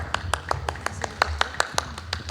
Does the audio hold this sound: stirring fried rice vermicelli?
no